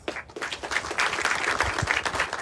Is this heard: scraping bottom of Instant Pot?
no